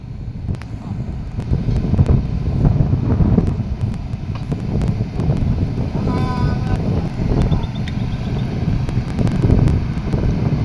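Strong wind buffets the microphone outdoors at a townhouse installation site, a continuous loud rumble with gusts rising and falling, and faint distant voices in the background.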